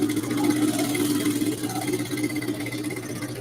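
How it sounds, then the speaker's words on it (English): A sewing machine stitching a pocket onto elastic shorts, a steady whirring motor hum with a fast fine mechanical chatter, continuous and moderately quiet, with no voices. "Now we are going to sew the pocket."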